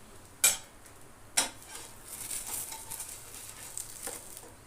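A coriander paste masala dosa sizzles softly on a pan, with two sharp metallic clanks of a spatula near the start followed by a steady faint frying hiss and light scrapes.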